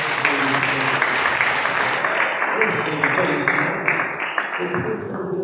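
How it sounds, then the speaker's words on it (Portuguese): Congregation clapping in praise during a Friday night service at a church, dense sustained applause mixed with singing or voices throughout, fading slightly near the end. "As palmas que louvam."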